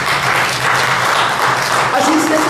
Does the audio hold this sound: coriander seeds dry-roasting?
no